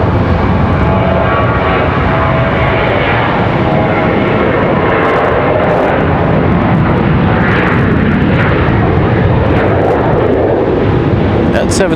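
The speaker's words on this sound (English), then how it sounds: "That 737 leaving heavy" A heavily loaded Boeing 737 departs from Charlotte Douglas airport, its jet engines a loud, continuous broadband roar that fills the whole span, with a voice talking faintly underneath.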